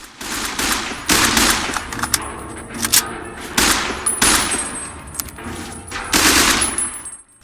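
Rapid semi-automatic gunfire in a tactical shooter game, loud close bursts of sharp cracks in uneven clusters with brief pauses and ringing tails between volleys, no talking.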